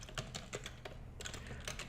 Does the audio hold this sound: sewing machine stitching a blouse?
no